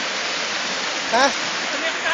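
A waterfall gives off a steady, close rushing roar, with a short spoken interjection heard briefly over it.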